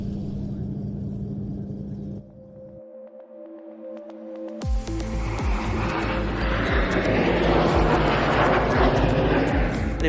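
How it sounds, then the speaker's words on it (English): An Aeronaval formation flypast at an air power demonstration: a low hum and steady tones give way to a sudden, loud, broad roar of aircraft that builds and stays close to the end. "An impressive formation flypast started the Aeronaval air power demonstration"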